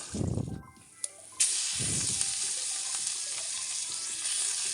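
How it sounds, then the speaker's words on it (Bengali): Peanuts and shrimp stirred and fried in a pan, a loud continuous sizzle broken by low scraping stir strokes and a few sharp clicks of the utensil. "চীনাবাদাম আর চিংড়ি মাছ নেড়ে চেড়ে যখন ওগুলো ভালো করে হয়ে যাবে"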